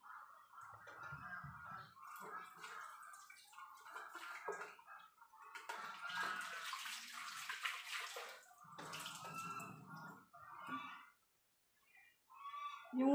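Soursop fruit being washed by hand in water, with close sloshing and splashing that comes in bursts and pauses throughout.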